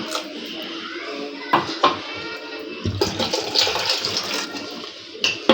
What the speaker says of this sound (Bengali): মোটামুটি পানি দিয়ে দিলাম ঠান্ডা